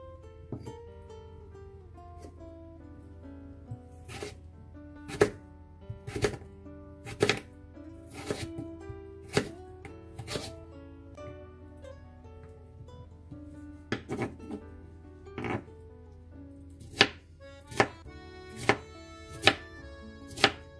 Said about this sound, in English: I'm going to cut my potato into small cube.